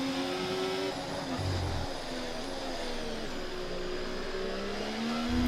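An F1 car engine screams steadily down a straight in F1 24 at the Qatar GP, a loud, sustained high-revving drone with rising pitch and one brief gear-change dip.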